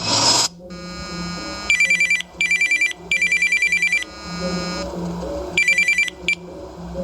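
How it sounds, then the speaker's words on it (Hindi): A telephone rings in repeated electronic trill bursts, close and clear, with some background tones between rings. "जब मेरे पास एक फोन कॉल आया"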